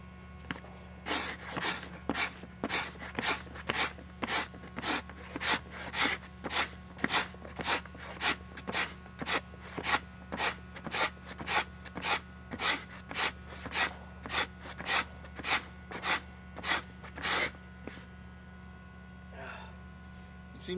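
A sharp tool dry-scrapes a deer hide in steady rhythmic strokes, about thirty crisp rasping scrapes close by over a constant low mains hum, then stops near the end.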